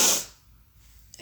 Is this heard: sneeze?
yes